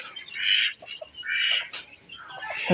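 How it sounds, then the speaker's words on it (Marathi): Several ducks quack and squawk nearby in short bursts at a farmyard, some overlapping, with brief pauses between calls. "बघा ही बघा बदकं जवळ पाच ते सहा बदकं आहेत"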